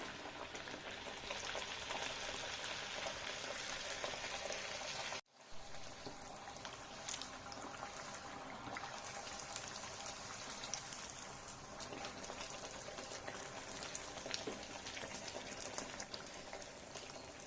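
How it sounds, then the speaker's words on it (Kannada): Rice puris (akki vade) fry in hot oil, a steady, faint bubbling sizzle that continues throughout with a brief dropout partway, no voices. "ಈಗ ನಾವು ಒಂದೊಂದೇ ಫ್ರೈ ಮಾಡ್ಕೊಳ್ಳೋಣ. ನೋಡಿ, ಎಣ್ಣೆ ಚೆನ್ನಾಗಿ ಕಾದಿದೆ."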